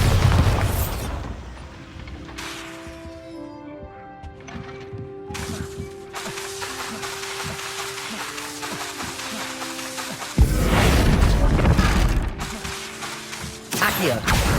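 Bombarda blasting spell cast in the Hogwarts Legacy game: sharp booming bursts near the start, middle and end, separated by stretches of game music and mechanical clatter, with no voices.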